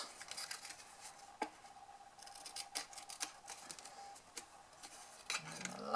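Scissors snipping by hand through a paper box, a handful of sharp, separate cuts spaced irregularly, close and quiet in a still room.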